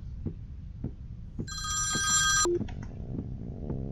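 A telephone in a 3D horror video game rings once with a bright, sustained electronic trill, over soft rhythmic thumping footsteps that continue after the ring stops.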